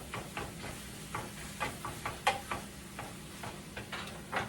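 Ground beef cooks in a pan with a faint, steady sizzle broken by small irregular ticks and pops, quiet and close, with no talking.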